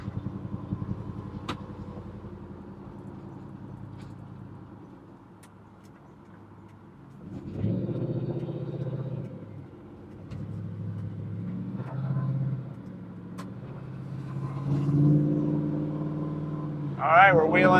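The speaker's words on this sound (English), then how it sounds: "we're wheeling this nice Impala down the road, making great noise" An LS-swapped 1968 Chevrolet Impala SS pro touring car cruising down the road, its engine droning steadily and swelling as it accelerates, heard from inside the cabin with a person talking over it.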